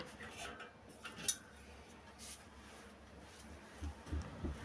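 Soaked boondi for laddu being stirred in a large vessel: faint, soft scraping and occasional light utensil clicks against the metal, steady and close.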